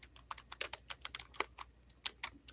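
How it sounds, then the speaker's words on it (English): Fingers type on a computer keyboard in short, irregular bursts of crisp clicks, close and fairly quiet, with no talking over them. "So I'm typing that right now."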